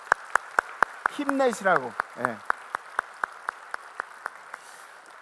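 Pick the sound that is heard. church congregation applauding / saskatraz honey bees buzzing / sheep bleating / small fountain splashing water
church congregation applauding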